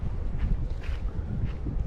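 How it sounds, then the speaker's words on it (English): Wind buffets the microphone in a steady, rough low rush. "It is a little bit windy though"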